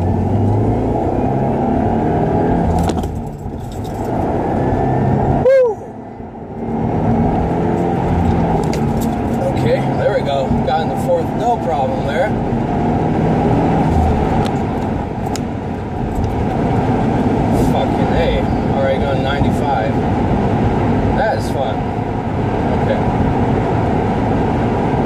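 A 2016 Subaru WRX Limited pulls through its gears, the steady engine and road drone loud from inside the cabin, briefly dipping twice as shifts interrupt the pull before it resumes.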